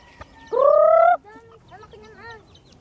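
Chickens and chicks clucking: one loud, drawn-out fowl call up close, followed by a few shorter, softer clucks and chirps, with no clear talking.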